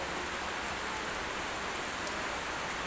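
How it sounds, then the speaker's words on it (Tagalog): Rain pours steadily outside a farmhouse, a dense, even hiss with no gaps, moderately loud, with no voices. "Naulan ngayon."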